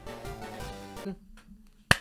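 A single sharp clap for editing sync cracks out near the end, just after a stretch of music and a short quiet pause.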